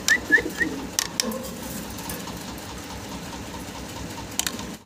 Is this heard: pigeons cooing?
yes